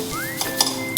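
Grated coconut and dry fruits sautéed in ghee for sweet karanji filling, a brief moment of soft sizzling with a couple of light spoon scrapes in the pan and a faint rising tone in the background.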